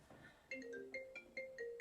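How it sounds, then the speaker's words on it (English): A phone ringtone plays for an incoming call during a home weights and stretching session, a faint repeating electronic melody of short tonal notes with no voices over it. "Getting a phone call from someplace."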